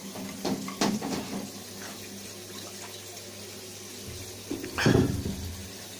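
Water sloshes and splashes in a bathtub as a submersible pump is lowered in, with a few intermittent splashes and a louder burst near the end over a steady low hum.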